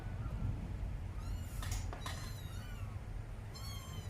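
Several thin, high meows from a 22-day-old kitten, short and sporadic, over a low steady background rumble, fairly quiet and close.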